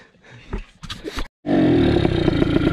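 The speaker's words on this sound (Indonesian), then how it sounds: "ini mesin tiger" A Honda Tiger motorcycle engine starts up after a brief silence and runs steadily at close range, a loud continuous idle with a low rumble, preceded by scattered clattering handling sounds.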